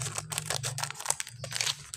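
Cappuccino powder pours from a torn sachet into a glass, with a crinkling of the packet and a soft, gritty rustle of granules, close and continuous.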